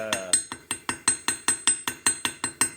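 Small bronze needle struck repeatedly with a hammer in a workshop: about eleven sharp metallic strikes in a steady, even rhythm, each with a bright ringing clink, close and clear with no talk.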